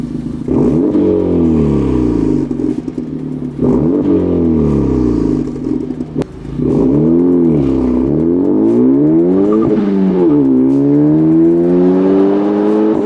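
A loud aftermarket exhaust on a Honda Civic Type R revs repeatedly, the pitch climbing and falling in sweeping waves, with a deep raspy drone throughout.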